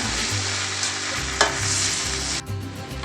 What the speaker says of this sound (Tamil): இப்போ இது எல்லாத்தையும் நல்லா ஒன்றோட ஒன்று மிக்ஸ் பண்ணி விட்டுக்குங்க.